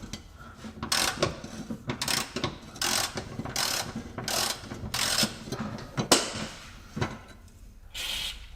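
An impact gun hammers at the differential bolts of a Jaguar S-Type, firing roughly a dozen short, rattling bursts in a steady rhythm, close and moderately loud with brief pauses between.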